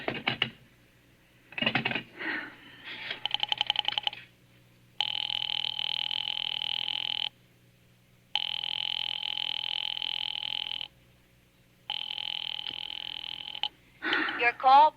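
Old rotary telephone being dialed and ringing, with a rattling dial burst followed by three long, evenly spaced buzzing rings, close and clear, and a voice speaking near the end.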